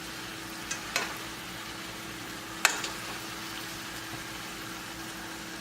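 Vegetable ribbons in a chicken sausage stir fry sizzle steadily at low level in a hot pan, with two sharp utensil clacks as they are flipped; no talking.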